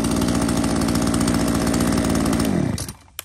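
A Shindaiwa chainsaw with an assisted recoil starter runs loud and close at a steady buzzing idle, then cuts out and winds down to near silence, with a small knock right at the end.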